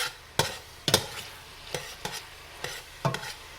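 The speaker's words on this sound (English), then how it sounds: "Okay, I'm just gonna let my veggies saute some." Vegetables and garlic sautéing in a pan for homemade chili make a low, steady sizzle, broken by a series of sharp spatula scrapes and stirring knocks at irregular intervals, close and fairly quiet.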